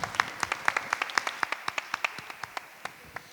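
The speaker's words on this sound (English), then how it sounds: "Give them a round of applause." A small audience claps at a workshop session, a sparse round of distinct hand claps in a steady patter that thins out toward the end, moderately close and fairly quiet.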